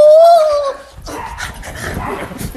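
A dog gives one loud, drawn-out whining yelp up close, then rustling and a softer, noisy scuffle follow as the cry stops.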